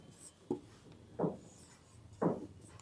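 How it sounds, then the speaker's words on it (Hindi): Writing strokes on a board or paper, three distinct scratchy bursts spaced about a second apart, close and fairly faint against a quiet room. "तो आगे लिखेंगे हम चरण नंबर 2"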